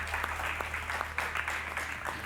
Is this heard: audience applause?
yes